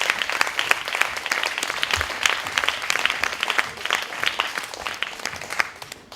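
Steady applause from an audience at an evening event at the BBox, dense clapping throughout at an even level with no pauses, sustained for several seconds.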